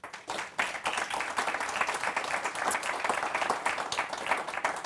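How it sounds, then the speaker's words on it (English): An indoor conference audience applauds panelists after a discussion on industrial carbon capture policy, a dense sustained round of clapping from many hands in a room, steady throughout and free of talk. "How about a round of applause for them?"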